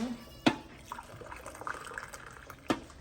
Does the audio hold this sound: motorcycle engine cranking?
no